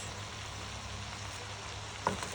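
Chicken chop suey sizzles steadily in a hot pan, a close, even frying hiss with a brief scrape of stirring near the end.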